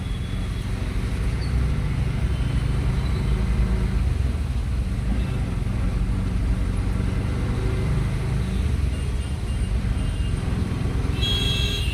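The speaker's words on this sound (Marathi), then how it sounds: "इकडच्या साईडनं खूप ट्रॅफिक जाम आहे" Heavy road traffic stuck in a rainy jam in Pune, a steady low rumble of car and truck engines close by that fills the whole stretch with no talking.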